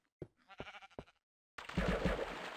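Three short sheep bleats from Minecraft Pocket Edition sound close and clear, and a burst of louder, noisier game sound follows them.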